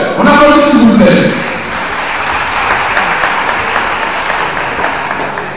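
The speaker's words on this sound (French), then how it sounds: "Maintenant, place au jeu. On applaudit s'il vous plaît." Crowd clapping before a match gets under way, loud and sustained applause that rises in over the tail of a raised voice and carries on steadily.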